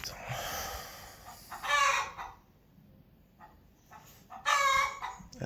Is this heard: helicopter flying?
no